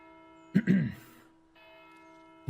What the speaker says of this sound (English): Lord Ermel is about to ring the bell.